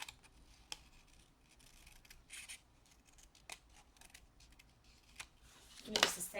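Scissors snipping out paper letters for a welcome banner: scattered soft crisp snips and rustling paper, quiet and close, with a denser cluster of cutting near the end.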